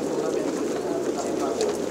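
Pigeons coo in a pigeon shop, soft low calls repeating steadily through a constant murmur of birds close by, with no talk.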